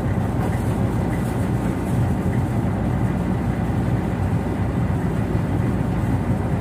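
A ship's engine runs while the vessel docks at Baliwasan port in Zamboanga City: a heavy, steady low rumble that stays loud and unbroken throughout, with no voices over it.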